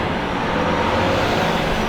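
A shunter truck moving trailers around a yard gives a loud, steady diesel engine rumble, close and continuous for the whole couple of seconds with no break.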